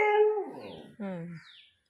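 A dog howls in two long, wavering, mournful cries close by, with a brief pause between them, then silence.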